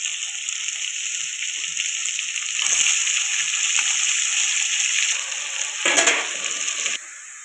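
Chicken pieces with a little turmeric are added to a hot pan, giving a steady loud sizzle with a burst of splattering and stirring scrapes partway through before it settles.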